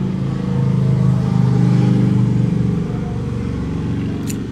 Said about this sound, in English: That's a nice bike,